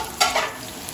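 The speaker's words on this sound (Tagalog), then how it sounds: "Lagay na po natin yung ating bawang sibuyas at sili. Pagkisahin na po natin dyan." Garlic, onion and chili hitting a hot pan, a brief sharp sizzle surge followed by a steady close frying hiss.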